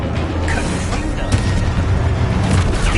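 A loud, dense fiery blast from the Confringo spell in the Hogwarts Legacy video game, a continuous rumbling roar with crackling bursts layered throughout.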